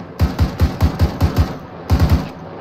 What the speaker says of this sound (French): Ah, on prend des tirs, on monte.